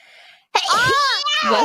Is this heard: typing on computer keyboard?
no